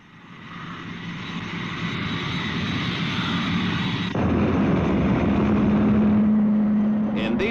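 A 1950s supersonic jet aircraft roars in flight, its engine noise swelling from quiet to a loud, sustained drone that holds steady to the end.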